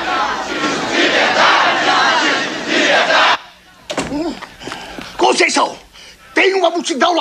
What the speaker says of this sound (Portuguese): Tem uma multidão lá fora gritando.